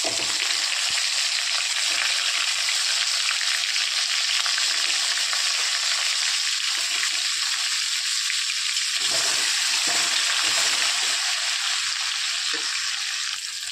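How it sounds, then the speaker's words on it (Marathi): Eggplant (brinjal) sautéing in a pan with asafoetida, giving a loud, continuous frying hiss that stays steady throughout with no voices over it. "थोडंसं हिंग आपण वांगे परतून घेणार आहोत एक दोन मिनिट"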